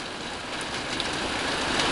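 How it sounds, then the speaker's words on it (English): Heavy monsoon downpour in the Sonoran Desert at Tucson, a dense, constant roar of rain hammering surfaces, loud and unbroken with a few sharper drop hits. "Most powerful monsoon rain I have ever seen in Tucson."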